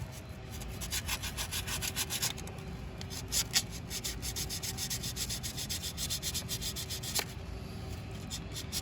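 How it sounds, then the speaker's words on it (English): Sandpaper rubs corroded parts from a 1977 Chevy Camaro in a steady back-and-forth rasp, close and fairly quiet, continuing without pause; no talking. "We got sandpaper. So we're gonna get to cleaning on this."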